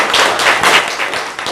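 Audience applause at a town select board meeting, a dense burst of many hands clapping steadily and fairly loud across the room, with no voices heard over it.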